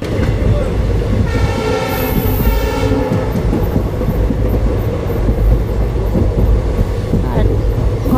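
A train rolls steadily toward Guwahati, loud rumble and rail noise filling the space close by, with a brief horn sounding in the distance partway through.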